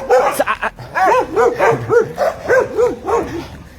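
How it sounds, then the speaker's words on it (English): Guard dogs at the bottom of a driveway bark and yip in a rapid run of sharp, close, loud barks with whimpering edges, repeating in quick bursts. "guard dogs, so vicious"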